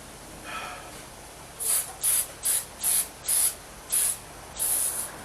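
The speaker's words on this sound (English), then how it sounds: "we're going to take our pie pan, which we're going to spray with just a smattering of cooking spray" Butter-flavored cooking spray misted onto a pie pan in a series of seven short, sharp hissing bursts, close and fairly loud, following a quiet pause.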